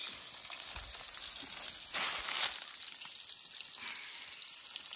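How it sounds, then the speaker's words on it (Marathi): Kaul fish frying in a pan outdoors in a forest, a steady broadband sizzle holding throughout with a brief louder surge of crackle near the middle, no voices. "कौल आणलेला आहे ना मस्त कौल मासा फ्राय"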